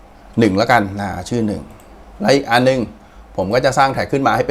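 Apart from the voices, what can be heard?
No distinct noise like a dog, phone or traffic.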